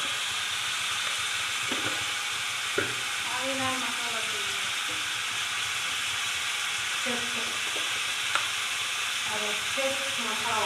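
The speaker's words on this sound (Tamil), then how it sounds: "கொஞ்சம் ஃப்ளேவருக்காக நெய் ஊற்றிக்கோங்க." Ghee sizzles in a pan of cheese paneer snack. A steady, dense frying hiss runs throughout, with light stirring clinks and scrapes breaking through now and then.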